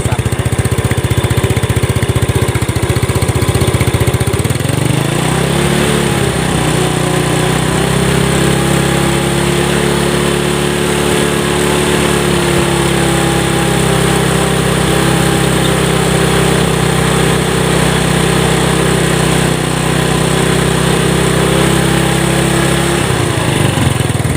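A Yamaha Nouvo motorcycle engine idles loudly up close, then its pitch rises as the throttle is twisted. It holds a steady higher drone for most of the clip before easing back near the end.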